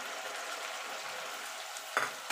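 Coriander leaves are stirred into tomato and ginger frying in a pan, producing a steady, faint sizzle with a brief soft scrape of stirring near the end.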